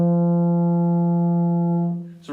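A baritone horn sounds as the player buzzes the lips into it, giving one loud, steady, brassy low note held for about two seconds before it fades out. No talking is heard.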